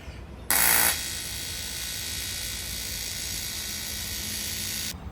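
Intercooler piping being tack welded: a short loud crackling burst, then a steady hissing buzz that holds for about four seconds over a low background hum.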